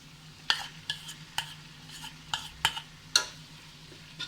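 Cooked vegetables and spaghetti noodles being stirred together in a pan for an Indo-Chinese mixed non-veg dish, with a low sizzle under a series of sharp utensil scrapes and clinks at irregular intervals.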